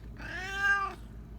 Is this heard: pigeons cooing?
no